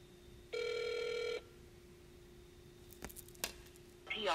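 A telephone gives one electronic ring tone of about a second over a faint steady hum as a call is put through to voicemail, followed by a few soft clicks and a brief rise of noise.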